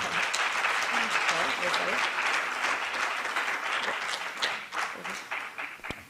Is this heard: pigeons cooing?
no